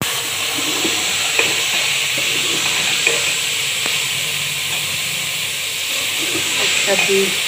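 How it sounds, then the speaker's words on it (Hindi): Okra frying in a little hot oil in a pot with onions gives a constant close hiss and sizzle, with faint small clicks and pops scattered through the steady sound. "ऑयल गर्म होता तो फिर इसमें भिंडियाँ डालते हैं"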